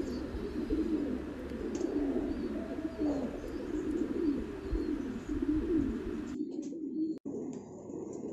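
Pigeons in a coop, a bonded pair of birds with beaded neck rings, cooing steadily in low repeated phrases at close range, with occasional faint chirps and no speech.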